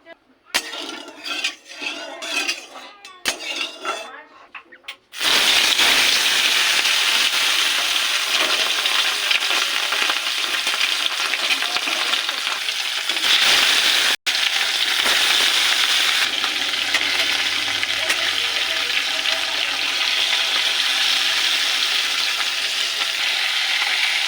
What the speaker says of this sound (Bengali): কড়াইতে গরম তেলে একটু নুন দিয়ে দেবো মাছটা লেগে যাবে না